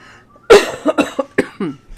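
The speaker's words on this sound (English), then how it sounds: "I have this 6-month-old cough." A single harsh cough bursts out close by, followed by a few more rough, broken hacking sounds tapering off over the next second.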